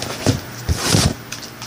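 Tarot cards being shuffled by hand, a few soft papery riffling bursts close by, separated by brief pauses, with no talking.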